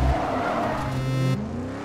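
Race cars in the mobile game Rebel Racing roar and boost, then tires squeal in a sustained skid, loud and close, ending abruptly with no talking.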